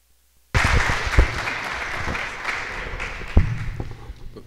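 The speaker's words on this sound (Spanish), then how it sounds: "Lo recibimos con un aplauso." An audience at a Mexican diplomatic history lecture on the separation of Texas bursts into applause after a moment of silence, dense steady clapping that fills the room and holds for several seconds with a few louder claps.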